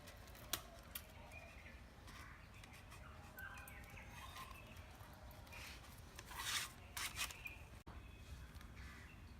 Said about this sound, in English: Now we have to cut the wrapper of this bottle.